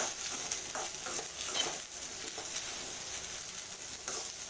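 Okra fries in oil in a pan for sambar, a steady close sizzle with soft stirring scrapes and spatters running throughout, with no talking.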